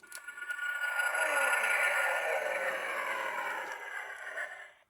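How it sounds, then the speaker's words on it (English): A whooshing, roaring engine effect from a Star Wars Naboo N-1 Starfighter toy swells and then fades away, like a spacecraft passing overhead, with a faint electronic hum. "So one of these is the sound of the engines."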